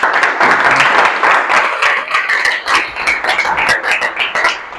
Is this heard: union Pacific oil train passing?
no